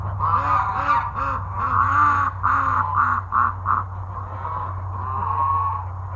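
A flock of ducks heading into a barn in winter calling in a rapid, overlapping series of nasal honks and quacks, close by, over a steady low hum.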